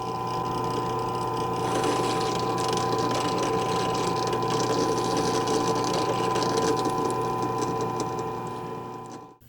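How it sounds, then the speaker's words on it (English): A power drill bores pilot holes for guitar tuners into a wooden Telecaster neck blank, producing a continuous, steady whirring grind at close range for several seconds before stopping. "So there are our tuner holes pre-drilled."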